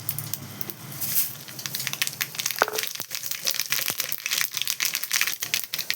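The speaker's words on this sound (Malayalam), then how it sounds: "വെളിച്ചെണ്ണ ഒഴിച്ചതിൻ്റെ ഇനി അതിലേക്ക് കടുകിടാം അതിലേക്ക് ഒരു സ്പൂണ് കടുകിടാം" Mustard seeds splutter in hot coconut oil as a Kerala-style colocasia buttermilk curry gets started, giving dense crackling and popping with sharp irregular snaps, close and fairly loud, with no voices.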